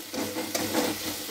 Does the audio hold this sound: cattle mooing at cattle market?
no